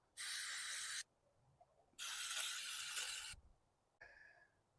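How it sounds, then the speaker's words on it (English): Carb cleaner is sprayed in two long aerosol bursts into the carburetor of a cheap used rototiller. The first burst lasts about a second and the second runs slightly longer, each a loud, close hiss, and a short faint squirt follows. "I'm just going to spray the crap out of it."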